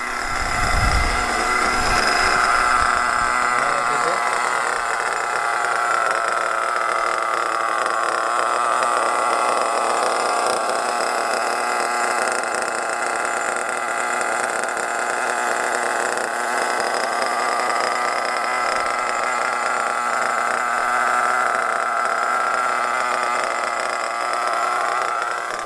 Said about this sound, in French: Je viens de mettre le véhicule en route. J'ai réglé un peu mieux le ralenti.